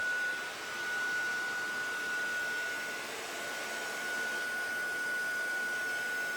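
A heat gun blows hot air onto foundry wax, a steady, close rushing hiss with a thin high whine running throughout and no talking.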